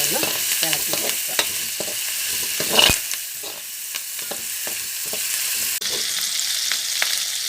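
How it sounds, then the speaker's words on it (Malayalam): Curry leaves are stirred in a frying pan for a Palakkad-style mackerel curry, giving a steady sizzle under frequent scraping stir strokes, with one louder clatter partway through. "അതിനോടൊപ്പം തന്നെ ഞാൻ കറിവേപ്പില ഞാൻ ചേർത്ത് കൊടുത്തു. നന്നായിട്ടൊന്ന് ഇളക്കി കൊടുക്കുക"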